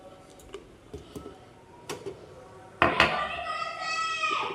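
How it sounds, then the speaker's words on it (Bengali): Dishes, pots and utensils being washed by hand, scattered clinks and knocks of metal followed by a louder clatter and running water. "তো চলো বাসনগুলো ঝপঝপ মেজে নিই"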